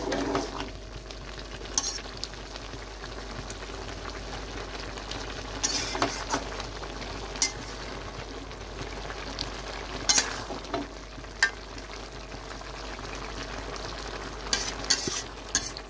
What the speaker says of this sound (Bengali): আপনি একটু নাড়াচাড়া করে নিচ্ছেন।